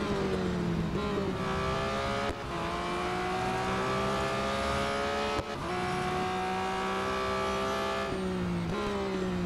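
A BMW M4 GT3 race car engine in Real Racing 3 drones loudly and continuously, with rising revs broken by two sharp gear shifts.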